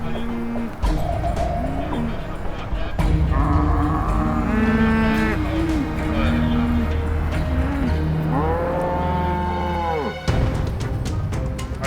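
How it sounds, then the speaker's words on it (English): Loose cows moo repeatedly on a highway, several long bellowing calls overlapping one after another, loud and near over steady traffic rumble, with no talk. "OPP and firefighters try to herd the loose cows and contain them behind a line of police stations."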